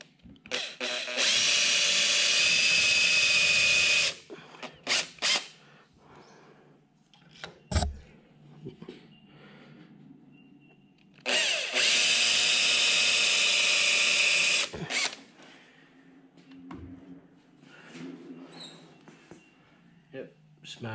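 A power drill bores holes in a milling machine's quill lock in two loud, steady runs of about three seconds each, separated by quieter clicks, handling noises and short pauses.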